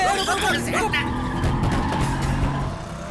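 A vehicle approaches and skids with a sustained tire screech during a tense chase scene, loud and close over music, with a voice heard.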